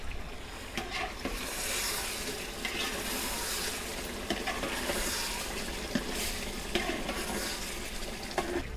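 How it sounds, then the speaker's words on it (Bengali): Potatoes boiling in a cooking pot for a village-style chicken curry are stirred, with a steady bubbling sizzle and scattered scraping knocks of the spoon against the pot, faint and continuous. "আমরা একটু নেড়ে দিচ্ছি"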